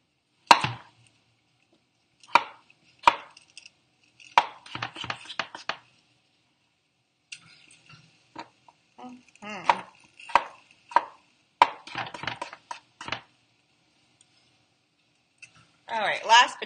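A knife chops potatoes on a cutting board in a home kitchen, with sharp single cuts and short quick runs of chops spaced across the clip, and a voice talking between them.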